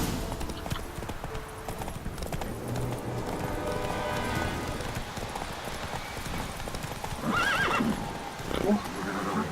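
Horse hooves pound at a gallop in The Witcher 3, with a loud neigh near the end; someone talks over the steady hoofbeats.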